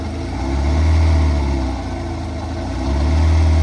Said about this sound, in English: Blower surge on a little Tarago, hey?